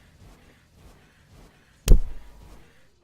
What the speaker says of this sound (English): I think I just heard a face palm.